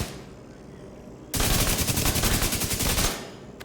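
Kingbreaker rifle fire in The Division 2, a sudden loud, rapid burst of shots after a quiet stretch, lasting nearly two seconds before cutting off abruptly.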